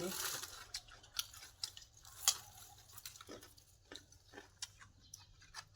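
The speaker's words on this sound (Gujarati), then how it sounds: "હવે ગાજર છે અત્યારમાં ગાજર ખાઈએ" Carrots are eaten close to the mic, with irregular soft crunches and chewing bites over several seconds, with quiet talk at times.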